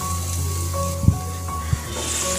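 Masala for a Bengali pakal fish curry cooking on a low flame in a lidded pan, a muffled steady simmering hiss with a couple of soft knocks, close and alone.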